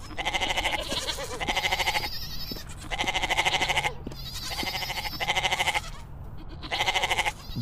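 An animated goat for sale at an Eid al-Adha livestock market bleats loudly in a series of five wavering, nasal calls, with short pauses and light background noise between them.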